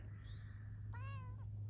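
A cat in a vegetable garden gives one clear, fairly loud meow lasting about half a second, over a steady low outdoor hum.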